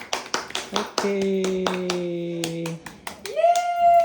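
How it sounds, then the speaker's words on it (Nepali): Claps at a family birthday celebration, several quick sharp hand claps up close, with sung and spoken voices over and between them. "ल ताली बजाउँछु ताली बजाउँछु"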